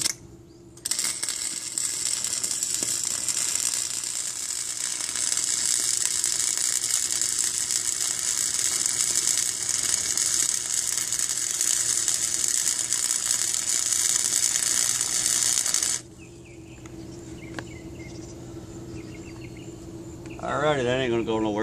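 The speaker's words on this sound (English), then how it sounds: "tack weld this cross brace in here" An electric welder tacks a steel cross brace into a shaft mounting frame, giving a loud, steady crackling buzz for about fifteen seconds before cutting off to quieter workshop sounds and faint mechanical noise.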